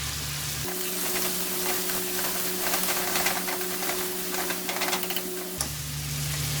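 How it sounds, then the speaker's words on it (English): Chicken for Lahori-style chicken karahi sizzles steadily in hot oil, a dense crackling hiss with scattered pops, close and continuous under a faint low hum. "it's going to be sizzling like this"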